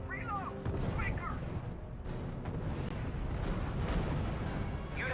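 Heavy artillery and gunfire from the World War II strategy game R.U.S.E., with rumbling booms and cracking shots rolling continuously, while radio-style voices talk over the battle.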